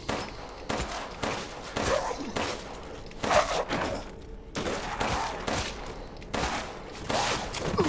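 Rapid bursts of gunfire in the video game Resident Evil Village, with repeated loud volleys and short pauses between them, heard alone without talk.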